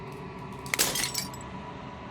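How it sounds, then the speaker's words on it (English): Glass shattering in the video game Slay the Princess, a sudden bright crash of breaking fragments followed by a short tinkling scatter of shards over a low steady hum, heard alone without speech. "As the final fragment of glass shatters, you see yourself with newfound clarity."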